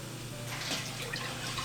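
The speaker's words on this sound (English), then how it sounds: "Now we're gonna fill the water back up all the way" Water runs and splashes into a pot of Vietnamese bun bo hue broth seasoned with fish sauce, a continuous close, moderately loud flow with a slight swell in the middle.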